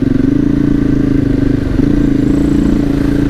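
An adventure motorcycle rides through the bush, its engine a steady close drone at even throttle throughout, with light clatter and no talk.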